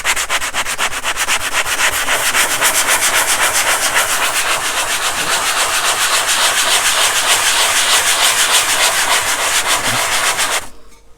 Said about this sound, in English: I may have to get some rougher sandpaper than this, but this will get us started.